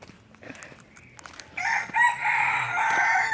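A rooster crows outdoors in French Polynesia, a loud, drawn-out cock-a-doodle-doo nearby, following quieter rustling and scattered background sounds.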